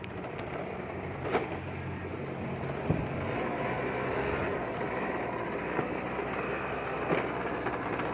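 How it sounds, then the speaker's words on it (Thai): A Honda ZX 35 motor scooter engine idles steadily after being started, a low continuous putter with a few faint clicks and knocks throughout, no talking. "โอเค สตาร์ทแล้ว ฮะ นี่ สตาร์ทเท้าก็ ได้ ด้านมือได้ครับ"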